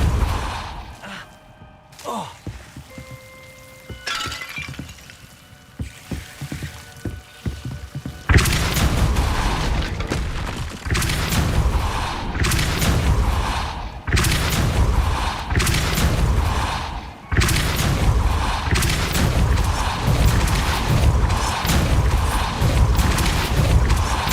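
Spell blasts from the Hogwarts Legacy video game, a series of loud booming explosions with crashing impacts in rapid bursts, following a quieter stretch of scattered clatter and hits.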